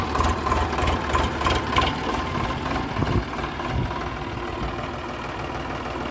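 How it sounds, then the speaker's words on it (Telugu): A Sonalika tractor engine runs steadily while the tractor is reversed, a continuous close mechanical drone and rattle that stays loud throughout with no talking. "సేమ్ అలాగే క్లచ్ అనేది లైట్గా రిలీజ్ చేస్తే బండి అనేది వెనక్కి వెళ్తుంది."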